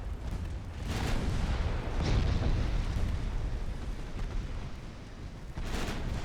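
Naval guns firing on a light ship and transport in the video game Ultimate Admiral Dreadnoughts, with a heavy Northampton cruiser involved: a sustained, loud rumbling barrage of overlapping booms that swells and eases, with no talk.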